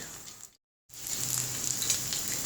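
Poha kebabs frying in hot oil, a steady close crackling sizzle that cuts out briefly and then returns strong and continuous, with no talking.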